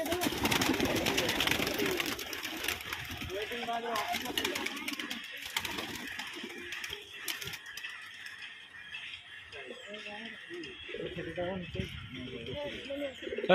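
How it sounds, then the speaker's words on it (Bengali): Racing pigeons at a pigeon race in Shantipur being released, their cooing and rustling steady throughout, fairly close, under near-continuous talk from people nearby. "ছেড়ে দেখিয়ে দেওয়া হচ্ছে পায়রাগুলো"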